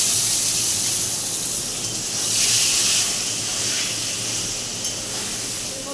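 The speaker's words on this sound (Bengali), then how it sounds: "এবার আমি এর মধ্যে কেটে ধুয়ে রাখা আলুগুলো দিয়ে দিলাম।" Cut potatoes drop into hot oil with whole cumin, bay leaves and dried chillies, giving a steady close sizzle and hiss that swells briefly midway, with no talking.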